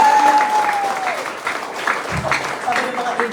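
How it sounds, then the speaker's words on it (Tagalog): Audience at a marketing-plan event applauding, dense steady clapping from a crowd in a hall, with a brief sustained tone and scattered voices underneath. "Mas malakas na palakpak para sa kanila."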